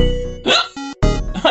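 A short hiccup breaks in among quick voiced vocal sounds, close and fairly loud, as a person with the hiccups makes brief abrupt catches between bursts of voice.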